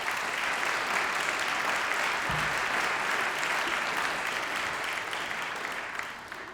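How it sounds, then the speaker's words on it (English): Families and friends at a university graduation ceremony applaud the graduands, a broad, continuous wash of clapping from a large audience that holds steady and then eases off slightly toward the end. "Give them a round of applause for their achievement that they're sat here today."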